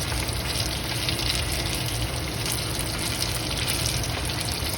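Dry cod frying in hot oil in a home kitchen, a steady, dense crackling sizzle that continues without a break and without any voices.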